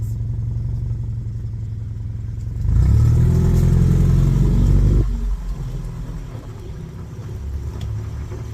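A car engine with no muffler idles with a loud, steady rumble, then revs up hard for a couple of seconds before settling back to a rough, throaty idle, heard close and alone.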